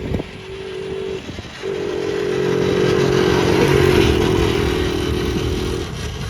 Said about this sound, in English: His Coleman mini bike was really fun to ride and fast too